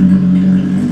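Close and loud, a big bike with an SC Project Original exhaust drones in a steady deep burble for a moment, alone.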